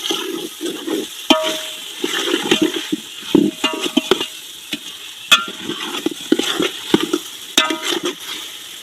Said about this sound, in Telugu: ఇందులో వేసుకొని బాగా కలపాలి.